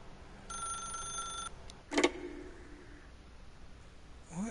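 A telephone rings in The Stanley Parable Ultra Deluxe: one electronic ring burst sounds, then after a pause a short sharp clatter follows, as if the receiver is lifted, all fairly quiet against a low hum.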